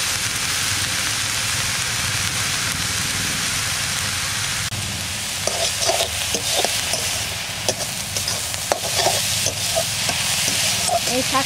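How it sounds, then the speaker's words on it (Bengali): Sikkim hill leafy greens frying with green chilli, turmeric and salt in a pan, a dense steady sizzle like rain, with clinking, scraping stirs becoming more frequent in the second half. "এই জন্য আমরা এমনি নর্মাল ভাজা করছি"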